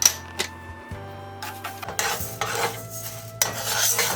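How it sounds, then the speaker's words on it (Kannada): Flax seeds dry roasting in a pan over medium or low flame, with scattered clinking and scraping of a utensil against the pan and faint stirring rustle, close and fairly quiet, no talking. "ಮೀಡಿಯಮ್ ಅಥವಾ ಲೋ ಫ್ಲೇಮಲ್ಲಿ ನಾನು ಫಸ್ಟು ಇದು ಫ್ಲೆಕ್ಸ್ ಸೀಡ್ಸ್ನ ಮಾಡ್ಕೊತಾ ಇದ್ದೀನಿ"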